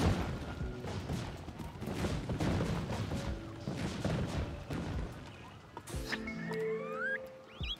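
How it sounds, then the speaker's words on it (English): A volcanic eruption in the Spore video game: a dense, rumbling roar of crackling bursts and booms that fades out, then gives way to lighter tonal game effects near the end. "Volcanic eruption?"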